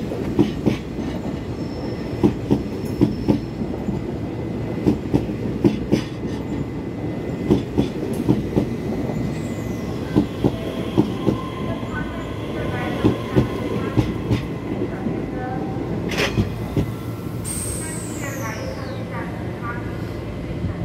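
A Taiwan EMU3000 twelve-car electric train pulling into Shulin station, with a steady rolling rumble, rhythmic clickety-clack from the wheels and a rising wheel squeal near the end. A voice talks over it in places.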